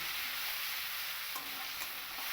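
Spice paste and whole cumin seeds fry in hot oil for a Bengali egg and potato curry, making a steady, close sizzling hiss with light stirring scrapes partway through and no talking.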